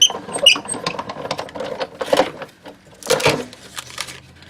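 A die cut machine pressing cardstock through a scalloped circle die from a layering circles set, giving a close run of rough mechanical crunching, rattling and squeaky clicks with no talk over it.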